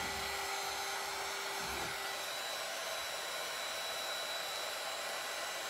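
Hair dryer blowing steadily on old painted table legs, a continuous close, even whir running alone throughout.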